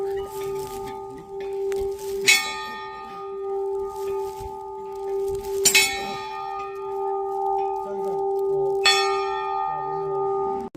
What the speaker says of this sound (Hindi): ये मैंने घंटा बजा।